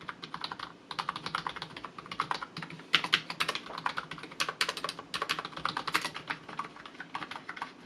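Steady, fast typing on an XTRIKE ME KB-511 membrane gaming keyboard, soft muffled key presses in quick irregular bursts, close by with no talking.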